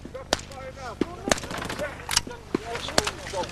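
Sharp bursts of gunfire crack out in an irregular rapid sequence during a battle, loud and close, mixed with shouting voices and background commotion.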